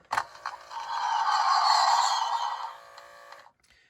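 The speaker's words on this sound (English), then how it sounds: "this is the troop transport motor sound." A Kenner Star Wars Troop Transport toy's electronic motor sound rises into a steady whirring hum for a few seconds, then cuts off, preceded by a click.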